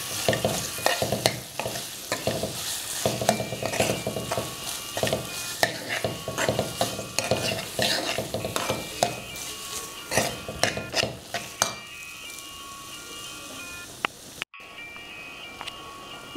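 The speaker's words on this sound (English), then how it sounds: "Then add pumpkin, cooked and mashed pumpkin." Cooked, mashed pumpkin being stirred into a pot of vegetable soup, steady scraping and wet sloshing with a light sizzle underneath, continuous and close for over ten seconds before easing off.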